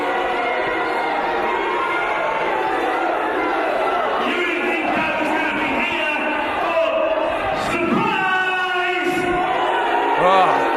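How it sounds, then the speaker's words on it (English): A British wrestling crowd at an NGW show jeers and boos the managing director, a loud sustained roar of voices with shouts rising near the end, a commentator's voice mixed in. "This crowd's not happy."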